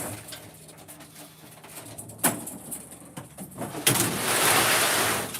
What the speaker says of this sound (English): those pigeons are going from pitch black to daylight